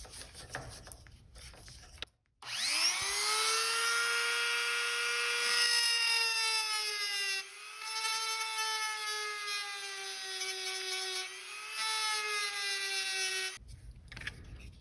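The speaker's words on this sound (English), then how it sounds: "The easiest way is just to use a Dremel with a grinding bit" Dremel rotary tool with a grinding bit cutting into a plastic GSG-16 MP5 airsoft magazine, a high steady whine that dips briefly under load twice, alone and close.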